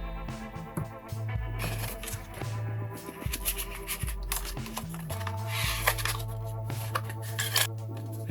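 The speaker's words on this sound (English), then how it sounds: "can maybe just score for a folding edge using the wrong side of the scalpel" The back of a scalpel blade scoring card to make a folding edge, short faint scratchy strokes repeated under steady background music.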